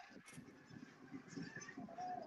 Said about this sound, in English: I'm in a hostile bird environment right now.